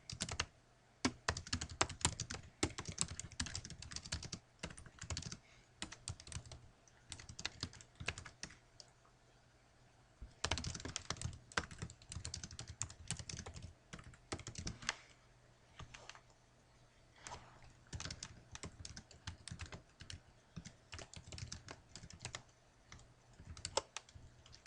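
Fast, steady typing on a computer keyboard, a dense stream of light key clicks with brief pauses, close and quiet over a faint electrical hum.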